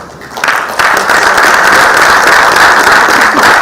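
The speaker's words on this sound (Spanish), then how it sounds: "también a él me gustaría pedirle un segundo aplauso" Audience applause at a live public event on water security in Mexico, a dense steady wash of clapping that swells after a soft start and holds loud throughout.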